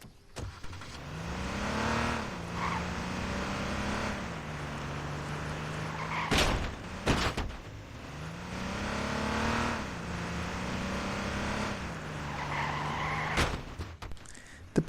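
A police vehicle in the H1Z1 video game revs and accelerates twice, the engine pitch rising through the gears before settling, with loud tire squeals and skids, sharp thuds, and a steady engine drone in between.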